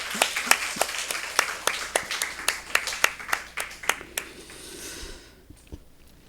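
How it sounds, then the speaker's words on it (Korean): A church congregation claps in blessing for the children during a Sunday morning service, a run of sharp handclaps that thin out and stop after about five seconds, leaving quiet room tone. "우리 올리브 우리 아이들이 건강하게 복되게 잘 자랄 수 있도록 박수로"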